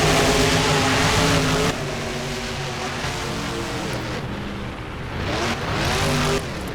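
Monster truck engines roaring and revving as the trucks race up ramps in the video game BeamNG at a stadium, a loud steady drone with shifting pitch and no talk.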